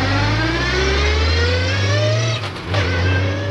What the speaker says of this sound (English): That R33 had a sequential gearbox.